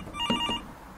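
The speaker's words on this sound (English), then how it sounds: "That sound. The phone. Again." A telephone ringing in the adventure video game Demetrios, one brief electronic trill with a bright tonal chime, fairly close and alone.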